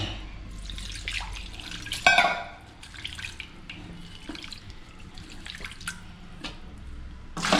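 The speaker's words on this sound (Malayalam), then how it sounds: "നമുക്കിത് നല്ലതുപോലെ കഴുകി" Sprigs of the Biophytum sensitivum (mukkutti) plant are rinsed under a running tap, with a steady trickle broken by splashes and drips and one sharp splash early on, heard close up without speech.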